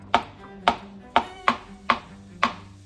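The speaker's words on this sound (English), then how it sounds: "now we're gonna slice them pretty thin so we could add it to the onion" Six evenly spaced knife chops as boiled potatoes are sliced thin on a cutting board, each a crisp, close thunk about half a second apart, with no talking over them.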